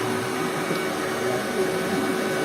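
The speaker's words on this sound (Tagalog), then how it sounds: "may direction ng proper na pagba-vacuum and pagba-brush ng upholster natin" A wet and dry vacuum cleaner runs steadily while working over upholstery, a continuous broadband motor whir with a faint tonal hum, fairly close and even throughout.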